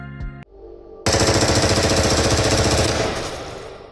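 PP gun from the game Into The Radius firing at an upgraded, faster rate: a brief click, then one sustained, loud burst of rapid automatic shots lasting about two seconds before trailing off.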